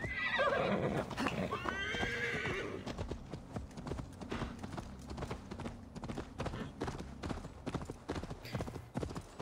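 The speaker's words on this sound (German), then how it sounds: "hier kann das Pferd wieder reiten" A horse neighs loudly at the start, then its hooves clip-clop in a steady galloping rhythm in the video game Assassin's Creed Valhalla, hoofbeats continuing close and even under faint background sound.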